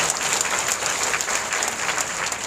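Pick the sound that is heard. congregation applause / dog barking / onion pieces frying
congregation applause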